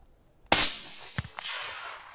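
A rifle shot rings out sharply during a roe buck hunt in the Gers countryside, one loud near blast with a long decaying echo, followed by a couple of fainter knocks and handling sounds.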